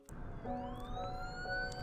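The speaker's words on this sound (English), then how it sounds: "The ambulance was travelling as fast as it could while trying to remain steady." An ambulance siren in a video game wails with a rising, sustained tone, loud and continuous throughout, with no voices.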